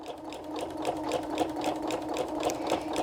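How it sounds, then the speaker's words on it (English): Sewing machine fitted with a walking foot quilting gentle curved lines through batting, a steady, fast mechanical whir with rapid rhythmic needle ticks, close and continuous with no talking. "I'm just going to start sewing, and I'm just going to give myself some really easy curves"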